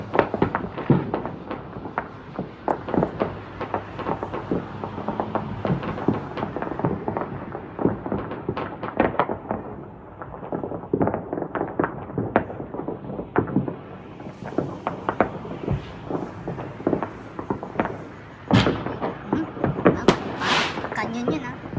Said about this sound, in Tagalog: Ang galing yung fireworks niya.